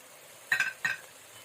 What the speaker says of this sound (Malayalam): ഇപ്പോൾ എല്ലായിടത്തേക്കും ഒന്ന് ഇളക്കി കൊടുത്തതിന് ശേഷം